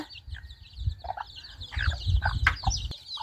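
Chickens clucking nearby in a rural Thai yard, a series of short scattered clucks and calls over low rumbling background noise.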